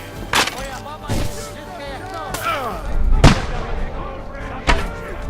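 Cannon fire in Kingdom Come: Deliverance II, with several sharp, heavy blasts spaced a second or so apart amid battle noise and shouting voices.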